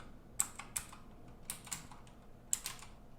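A computer keyboard sounds as a command is entered in a Linux terminal, a few close, faint keystrokes spaced unevenly over a quiet background.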